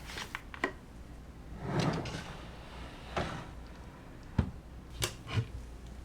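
A stationery storage drawer slid open and shut several times in a quiet room, giving soft scraping slides and a few sharp light knocks and clicks, close and fairly faint.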